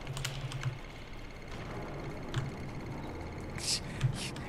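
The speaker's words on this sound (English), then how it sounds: "You're mashing on the keys on your keyboard like..." Keys on a computer keyboard mashed during a co-op Star Trek game session, scattered bursts of clattering taps spread across the clip at a moderate level, with faint voices in the background.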